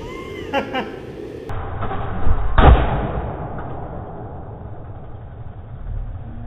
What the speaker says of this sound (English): That was a backfire, dude.